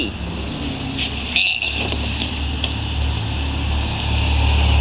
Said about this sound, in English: It's an RV.